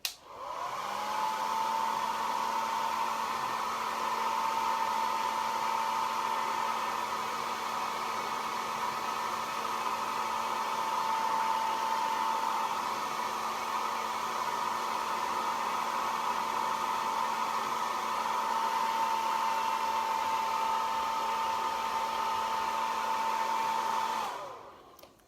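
A hair dryer blows steadily on freshly painted furniture to speed drying, a loud constant whine and airy rush running without pause for about twenty-four seconds before cutting off.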